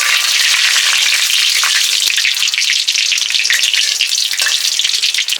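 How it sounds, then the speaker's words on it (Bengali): Whole cumin seeds sizzle and crackle in hot mustard oil in a kadai, a loud, steady frying hiss close up with scattered pops throughout and no talking. "আমি সরিষার তেল দিয়ে দিচ্ছি কড়াইতে, গোটা জিরে দিয়ে দিচ্ছি।"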